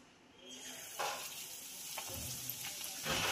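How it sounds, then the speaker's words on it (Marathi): Spinach pakoras coated in gram-flour batter deep-frying in hot oil, a steady bubbling hiss with sharper crackling bursts as pieces drop in, fairly quiet and close with no talk. "एक एक करून पकोडे तळून घेऊया"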